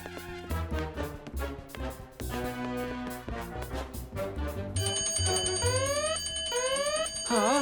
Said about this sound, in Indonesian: Mungkin cuma simulasi alarm kebakaran.